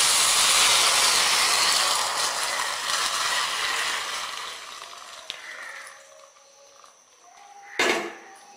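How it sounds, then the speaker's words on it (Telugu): Tempering for tomato rasam, with curry leaves, sizzles loudly in hot oil. The broad hiss slowly fades, then a brief sharp burst of sizzle flares near the end. "ఇది పెట్టి తాలింపు పెడతాం."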